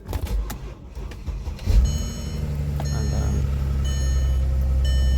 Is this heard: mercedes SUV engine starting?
yes